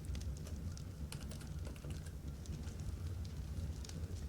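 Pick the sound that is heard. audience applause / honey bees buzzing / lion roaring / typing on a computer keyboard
typing on a computer keyboard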